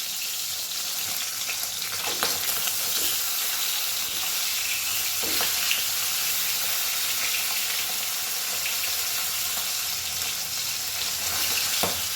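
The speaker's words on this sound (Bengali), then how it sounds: "মাথাটা ভাজার সময় এটাকে একটুখানি ভেঙে টুকরো করে নিয়েছি এটাও ভাজা হয়ে গেছে" Rohu fish head frying in hot oil, a steady bright sizzle that runs unbroken throughout with a few faint scrapes and crackles, close and moderately loud with no voices.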